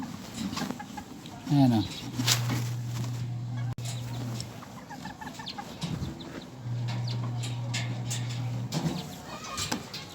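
Chickens clucking and a rooster-like call in a small backyard coop, with repeated steady clucks spread across the clip, close by, while someone talks in between.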